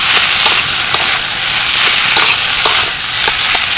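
Small peeled chunks of boiled potato stirred in a hot pan for kachori filling, a loud continuous sizzle with faint periodic scrapes of the spoon, no talking.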